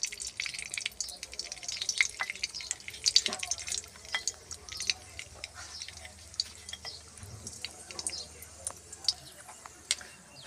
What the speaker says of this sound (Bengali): কড়াইয়ে আমি তেল নিয়ে নিয়েছি, ওর মধ্যে দিয়ে দিচ্ছি কালো সর্ষে ফোড়নের মধ্যে।